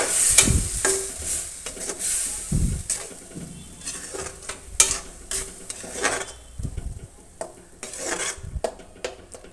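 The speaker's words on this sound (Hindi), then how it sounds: "तड़का लगा देंगे अच्छे से।" Spices crackle and sizzle in hot oil as a tempering for South Indian coconut chutney while a spoon scrapes and stirs against the pan, with occasional metallic clinks.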